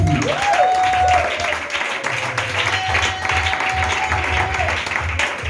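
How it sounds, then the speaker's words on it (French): A church congregation applauding and cheering for Jesus during a French-language sermon, a loud sustained wash of clapping from a large crowd with scattered shouts and a ringing tone held above it. "Est-ce que tu peux acclamer fortement Jésus?"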